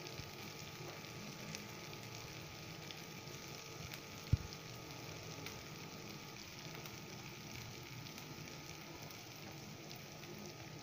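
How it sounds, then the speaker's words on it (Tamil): Onions with carrots and beans sauté for sambar in a pan, giving a steady, even sizzle that runs the whole time. One brief click sounds partway through, and no one speaks. "இப்போது வெங்காயத்தை நல்லா மிக்ஸ் பண்ணிவிட்டு வெங்காயம் நல்லா வதங்கி வரணும்."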